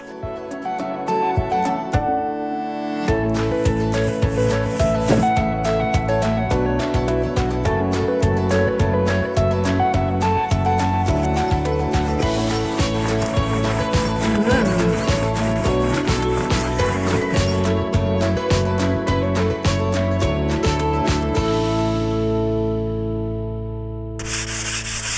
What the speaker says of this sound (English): I'm just giving it a fine sand with 320 grit sandpaper